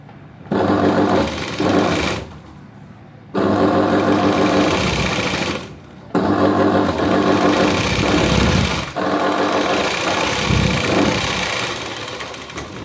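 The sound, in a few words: sewing machine stitching a blouse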